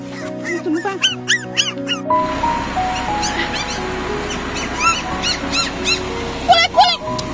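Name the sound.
stray dogs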